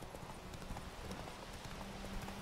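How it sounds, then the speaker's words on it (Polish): Hoofbeats of the horse Roach in The Witcher 3, a steady clip-clop at close range, with no talk over it. "Jak już mamy zająć się tym myśliwym, to niech koń do mnie przybędzie."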